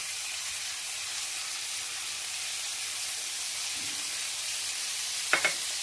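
Poppy seed paste stirred with drumsticks in a hot frying pan gives a steady, moderately loud sizzle and hiss throughout, with a couple of brief utensil scrapes near the end and no voices.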